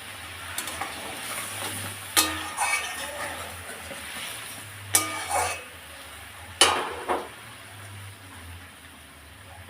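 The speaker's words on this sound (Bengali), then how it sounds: "এবার আমি ঢাকনাটা খুলে নেব।" A lid lifted off a cooking pot on a gas stove where prawns are being cooked Bengali style, with a few sharp metallic clanks and scrapes standing out over a low steady simmering hiss.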